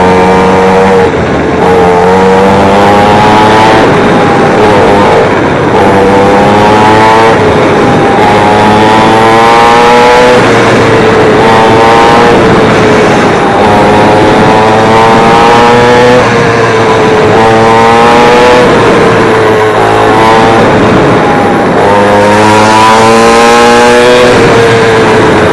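An Xpro 50cc mini two-stroke dirt bike engine, already warmed up, revs loudly and close in repeated rising and falling cycles, a buzzy high-pitched drone that never drops out for the whole stretch.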